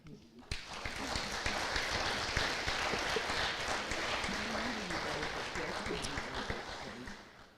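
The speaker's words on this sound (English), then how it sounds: "Can everyone please give me one more big round of applause for Mrs. Peckosh?" An FFA banquet audience bursts into sustained applause, dense clapping from many people that starts abruptly and holds steady for several seconds before tapering off.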